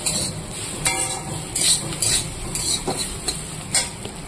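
Vegetables fry in oil in a pan on a home stove, with a low sizzle beneath a series of sharp scraping stirs and spatula knocks at irregular intervals, close and alone.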